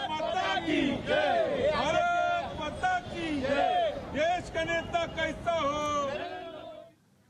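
A rally crowd celebrating Operation Sindoor in Nagpur, a dense roar of many voices with shouts and chants, loud and continuous before cutting off abruptly near the end.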